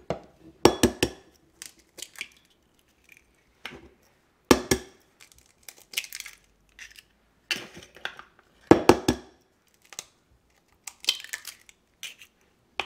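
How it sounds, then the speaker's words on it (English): Eggs being whisked in a bowl for keto breakfast hot pockets: bursts of quick clinking taps of utensil against the bowl, repeated in short irregular runs with quiet gaps, no talking. "first we're just going to scramble our eggs in a bowl so we can get them cooking"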